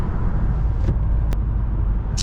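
A Chevrolet Impala SS drives at night, its engine a steady, close low rumble heard from inside the car with no talking.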